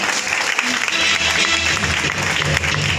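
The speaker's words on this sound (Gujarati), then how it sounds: "A huge round of applause" An audience at a beauty parlour kit celebration bursts into steady, dense applause. The clapping stays loud and close throughout with no break, and faint voices sit underneath.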